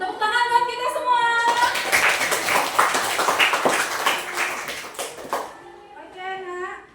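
Children clapping hands together in a classroom after a game ends, a lively burst of many small hands that rises, holds for several seconds and fades, with an adult talking before and after.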